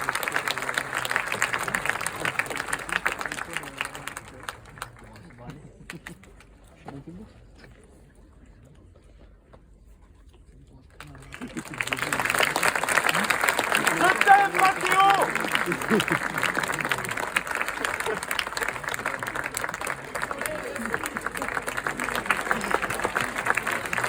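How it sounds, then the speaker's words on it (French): A cinema audience applauds at a film event, clapping steadily, dropping away to near silence for a few seconds, then bursting back into sustained applause mixed with crowd noise. "Vous pouvez encore applaudir, hein."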